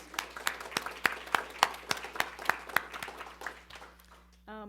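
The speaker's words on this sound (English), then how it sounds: "let's give her a round of applause" A small group clapping, sparse individual claps in an uneven rhythm that trails off, followed by a brief voice at the very end.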